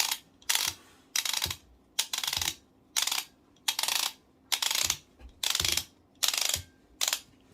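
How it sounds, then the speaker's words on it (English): A Millwright hand grinder's adjustment is turned step by step, producing a series of about ten sharp, close ratcheting clicks in an even rhythm, each a short burst separated by brief quiet gaps. "Initially the click may sound a bit softer, but as you try to turn more towards the clockwise position"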